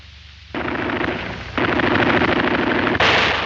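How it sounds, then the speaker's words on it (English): Automatic gunfire from a WWII corvette rattles across a ship's bow in three loud, rapid, close bursts, each a dense stream of shots with no pause between the bursts. "Fire across the bow."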